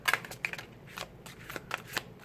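Tarot and oracle cards being shuffled by hand, several quick riffling bursts in an irregular rhythm, close and fairly clear, with no talk.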